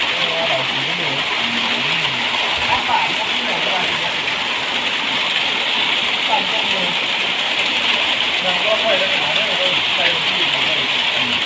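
Rain falls in a steady, unbroken hiss outdoors at a rural Thai home kitchen, continuous and fairly loud, with people talking over it.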